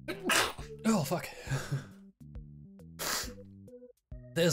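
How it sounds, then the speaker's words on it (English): A single sneeze bursts out amid talking and musical game audio, with a sharp nasal blast followed by the voice carrying on. "There's the sneeze."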